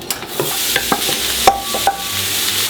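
Onions and carrots sweat gently in a cauldron alongside browned beef cheeks, giving a soft, low sizzle broken by the scattered clicks and scrapes of a spoon stirring nearby, with a faint ringing tone partway through.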